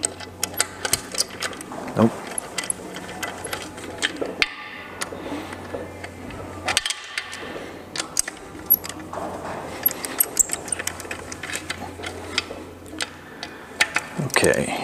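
A speed handle runs bolts into the nasty aluminum threads of an M5OD manual transmission case, giving steady light ticking, clicking and jangling metal sounds at close range with brief pauses.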